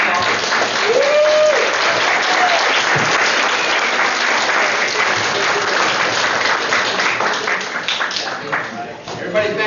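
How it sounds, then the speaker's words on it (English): Audience at an American Legion event in Stockholm applauds loudly and continuously, a dense crowd clapping close up with voices and cheers mixed in, thinning slightly toward the end. "Let's give another round of applause."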